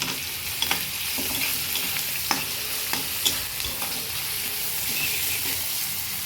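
Onion and tomato fry in a pan for egg curry while a spatula stirs and chops them down. A loud, continuous sizzle fills the whole stretch, punctuated by irregular knocks and scrapes of the utensil, close and with no talking.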